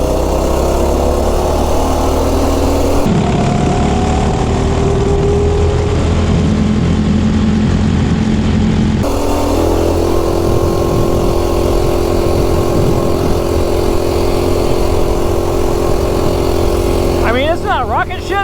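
An MB200 minibike engine fitted with a 40-tooth sprocket jack shaft runs at top speed, droning loud and steady, with a speaking voice over it.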